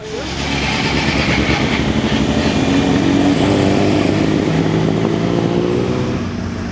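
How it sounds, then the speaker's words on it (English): An MG hill climb course car drives up the hill at a competition event, its engine running steadily and loudly for the whole stretch, with a broad continuous rumble and no voices. "Time for the course car to clear the hill so the competitors can return to the main paddock"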